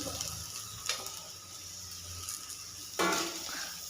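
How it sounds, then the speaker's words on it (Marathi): Tindora (ivy gourd) sautéing with onion in a pan: a soft, steady sizzle broken by a few scraping stirs, with a louder hiss near the end. "आपण त्याच्यात तोंडी ॲड करणार आहोत तोंडीसुद्धा एकदम व्यवस्थित परतून घ्यायची"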